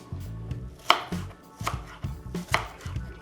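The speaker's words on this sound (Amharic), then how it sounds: "ቀጣይ ስራችን ምን ሽንኩርት መክተፍ ነው።" A knife chopping onion on a board, several uneven sharp taps near and clear with short pauses between strokes, no voices over it.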